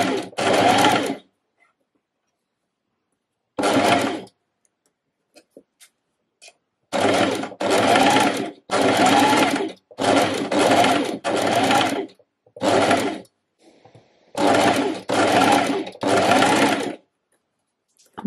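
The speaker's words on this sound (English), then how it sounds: "I'm just going to sew straight off." A sewing machine runs a straight seam on a beginner button-front reversible dress, in repeated loud bursts of steady whirring, each one to two seconds long, separated by pauses with faint handling noises.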